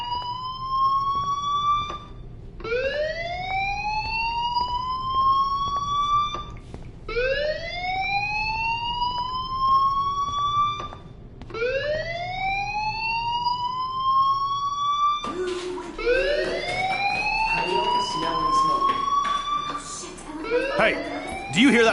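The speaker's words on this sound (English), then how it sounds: "Hey, do you hear that fire alarm?" Fire alarm in the Life Is Strange video game, a loud repeating rising electronic whoop that sweeps upward roughly every two and a half seconds, overlapping and getting busier near the end.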